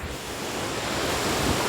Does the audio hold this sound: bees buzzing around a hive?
no